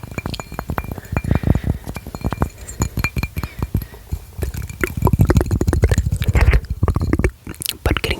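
Uranium glass pieces clinking together in a dense run of sharp, close taps and rattles that come in quick clusters throughout.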